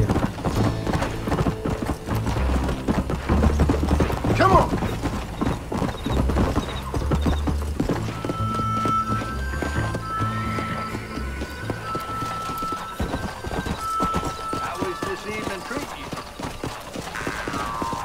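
Rapid clip-clop of several galloping horses in a Red Dead Redemption video game race runs throughout, with an occasional whinny, mixed with crowd noise and voices in the background.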